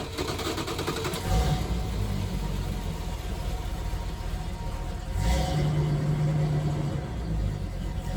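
Engine of a 1979 Dodge B300 camper van with a carburetor running, a steady rumbling idle with a couple of brief louder surges, heard close by outdoors.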